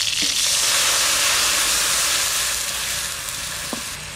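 Mustard paste water poured into hot oil tempered with black cumin and green chillies for a Bengali mustard hilsa curry, giving a loud, steady sizzle that fades gradually, with a couple of brief clinks.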